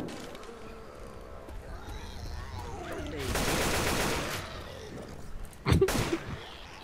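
Gunfire in the zombie shooter Left 4 Dead 2, a sustained buzzing burst of automatic fire followed by a sharp, loud single shot near the end over low in-game ambience.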